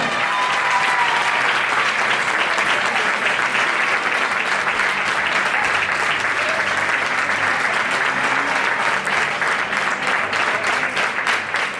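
Sustained, dense applause from a crowd at a women's football all-star match as the best player is honoured, a steady, even wash of clapping lasting throughout.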